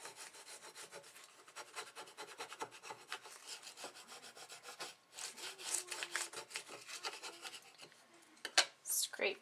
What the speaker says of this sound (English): I just take my little mat scraper that I got in my accessories kit